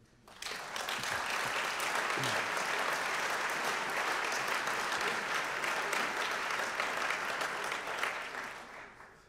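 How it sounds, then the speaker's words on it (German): Warm, sustained applause from a conference audience at the opening of a members' meeting, loud and dense clapping that fills the hall for about eight seconds before tapering off. "Und jetzt ist ein herzlicher Beifall fällig."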